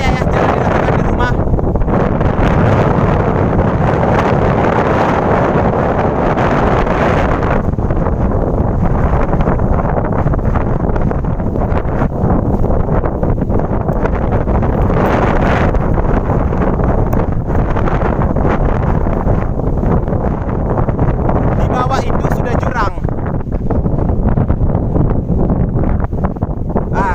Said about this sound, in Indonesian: Anginnya tuh kencang sekali nyampe di sini.